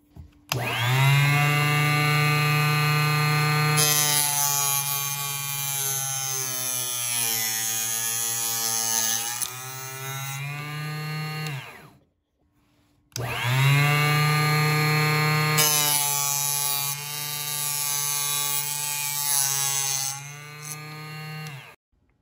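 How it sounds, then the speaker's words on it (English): An inexpensive arrow saw cutting a crossbow bolt and then a compound bow shaft, two loud whining runs of a high-speed motor with grinding as the blade bites, separated by a short pause. "let's go ahead and cut those same shafts. We're gonna start with the crossbow bolt, and then we'll do the compound bow shaft."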